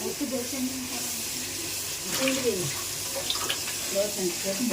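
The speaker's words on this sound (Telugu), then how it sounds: "ఇప్పుడు మనం మళ్ళా మామూలు వాటర్ వదులుదాం" Water runs steadily from a tap, a soft continuous splash with a voice speaking over it at moderate distance.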